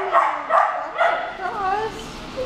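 A big dog gives several short yips and whines up close, in bursts about half a second apart, with a person's voice mixed in.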